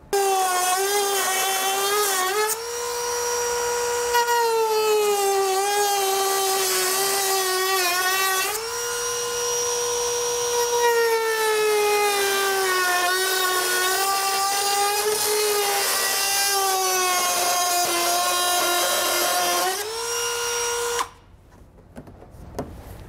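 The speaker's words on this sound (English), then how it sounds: "best case scenario would be to use a Dremel tool, which is what we have here" Dremel rotary tool trimming away plastic material while fitting a trailer hitch receiver on a 2018 Nissan Pathfinder, a loud high whine that rises and dips in pitch as the load changes, running steadily for about twenty seconds before stopping.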